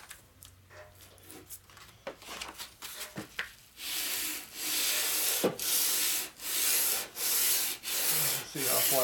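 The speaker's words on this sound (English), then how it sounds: "We'll take our sanding block." A sanding block scrubs back and forth across paper in long, regular strokes, each a broad rasping swish separated by brief pauses, close and clear, checking flatness of a 1947 Harley-Davidson knucklehead engine part.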